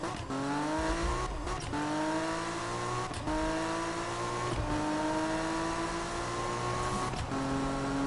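A Toyota Supra revs hard in Need for Speed 2015, its engine climbing through several gears with rising whines and brief shift breaks, loud and continuous without talk.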